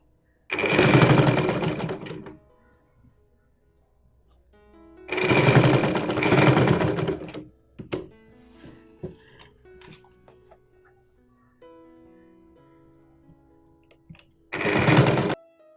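Sewing machine stitching a zip into the front neck of a nighty, three separate bursts of rapid mechanical whirring about two seconds long each, close and loud, with quiet handling clicks and fabric rustles between the runs.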